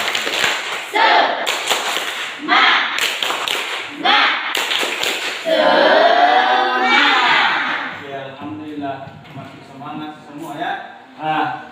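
A primary school class claps a rhythmic pattern in bursts while voices chant along, then the chanting continues with singing-like voices as the clapping fades.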